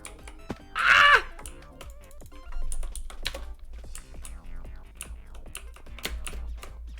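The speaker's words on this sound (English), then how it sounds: "Instead of typing it out every single time or copying and paste it, I go T and then up arrow to do the last thing I sent" Rapid clicks of typing on a computer keyboard, close and crisp, in irregular bursts of keystrokes with a brief louder noise near the start.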